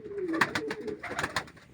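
Pigeons coo repeatedly in a coop, soft throaty calls close by and continuous, with some rustling and bird movement under them.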